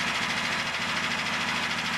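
A Super Bronc Bad Dog mini bike engine runs steadily nearby, a loud, continuous buzzing drone with a slight vibrating rattle and no pauses.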